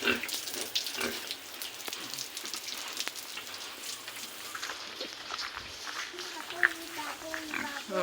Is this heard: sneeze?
no